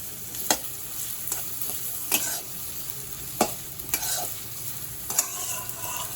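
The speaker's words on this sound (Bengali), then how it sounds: "গাজরটাকে একটু ভাজা ভাজা হতে দেব" Carrots frying in a pan for home-style chowmein, a continuous sizzle broken by sharp scraping stirs of a spatula every second or so, close up with no talk.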